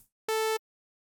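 A Serum software synth holds the root note of an Afro House track: one bright, harmonic-rich tone sustained for about a third of a second, starting and stopping abruptly, loud and alone with silence on either side.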